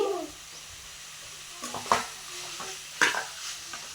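Soft, tender mutton head-meat curry sizzles in a pan while a spoon stirs it, giving a steady frying hiss broken by a few distinct scraping clatters.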